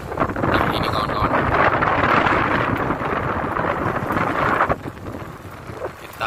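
Strong south wind at sea at night roars steadily and loudly as broadband buffeting against the mic, easing slightly toward the end.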